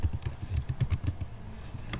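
Rapid keystrokes on a computer keyboard while writing CSS margin code, a dense run of close clicky taps in uneven bursts with a short pause near the end before a final tap.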